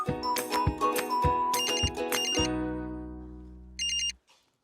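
A phone ringtone plays a bright, repeating melody of electronic notes, loud and close. It ends with a short trill before cutting off.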